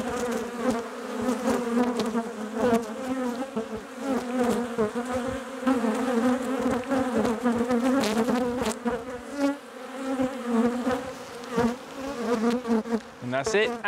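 Honey bees buzz around a hive frame, a dense close-up drone of many wings with individual bees whining past, steady throughout with brief scraping sounds mixed in.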